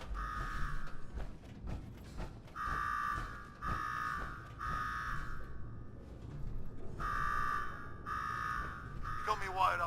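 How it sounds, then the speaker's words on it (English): In the Fallout 4 game, an electronic alarm blares in repeated long pulses with short gaps, sounding steadily over low ambient rumble and occasional mechanical clicks. "Now go shut off that damn alarm."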